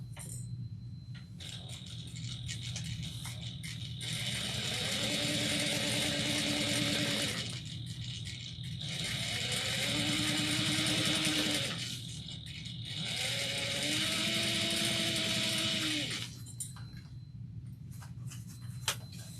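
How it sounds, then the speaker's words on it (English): A sewing machine topstitches 1/8 inch along a fabric panel in three separate runs of a few seconds each. Its motor hum and rapid needle clatter are moderately close, with short pauses between runs and no talking. "top stitch 1/8 of an inch on this panel"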